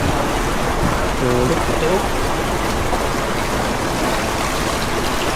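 A strong river current rushes steadily at a fishing spot where a net is being worked, a dense, close wash of water that continues throughout while people talk briefly over it.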